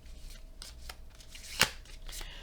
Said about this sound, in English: these cards are so fucking hard to shuffle